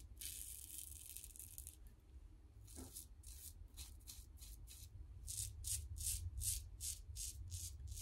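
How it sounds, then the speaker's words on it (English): A razor, with a brush and shaving kit close by, scrapes across skin in a string of short rasping strokes that come faster and louder toward the end, with no voices. "I'm just shaving right here"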